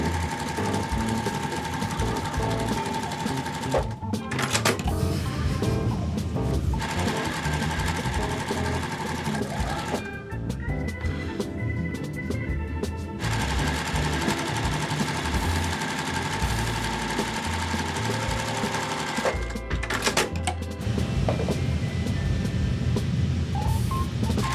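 A sewing machine joins quilt block rows right sides together with quarter-inch seams, humming loudly in long continuous runs broken by a few brief stops.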